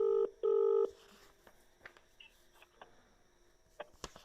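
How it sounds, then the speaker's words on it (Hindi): A phone call being dialed: two loud keypad tones beep at the start, followed by faint handset clicks and taps against a quiet background. "मैं आपके सामने साहेब को फ़ोन लगा रहा हूँ।"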